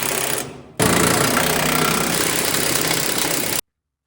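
A large impact wrench hammers big bolts down on a heavy-duty pintle hitch plate in one loud, rattling burst of about three seconds before stopping abruptly.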